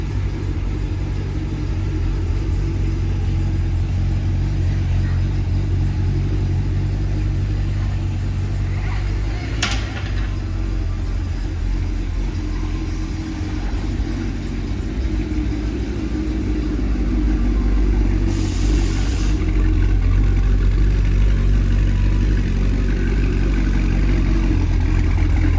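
A cammed 2023 Cadillac Escalade V engine rumbles steadily with a deep, even low-end drone at idle or light load, close and continuous, building slightly toward the end.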